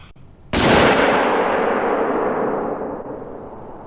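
A single loud rifle shot fired at an elk in a hunting video game, a sharp crack at about half a second followed by a long, slowly fading rolling echo.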